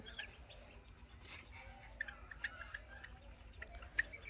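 White Polish chickens, five months old, clucking softly in a pen, with a few brief sharper calls standing out over low background rumble; no one talks.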